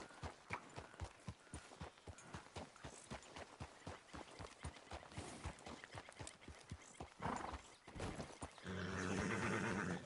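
Rapid hoofbeats pound in a steady galloping rhythm, then a horse whinnies loudly near the end; the sound has a crisp, game-like quality, from the video game Red Dead Redemption 2.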